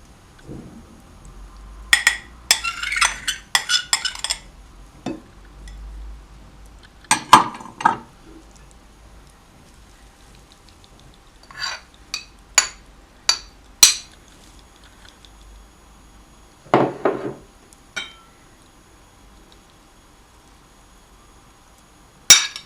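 Mexican bean salad tossed in a bowl with a utensil, producing scattered sharp clinks and scraping knocks against the dish, intermittent and close, separated by quiet gaps.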